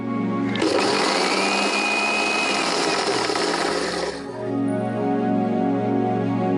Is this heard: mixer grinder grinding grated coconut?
yes